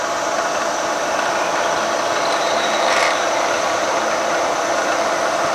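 A drill bores steadily through flame-hardened metal on an engine part being balanced, a loud, constant high-pitched whine and grind with no pauses and no talk.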